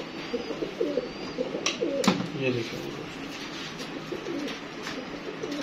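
Pigeons coo in soft, repeated throaty rolls nearby on a rooftop at night while a person talks over them, with a couple of sharp clicks in between.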